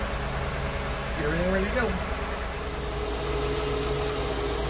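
Inboard engine of a 32-foot boat runs steadily while warming up to operating temperature before an oil change, a constant low drone with a voice speaking over it.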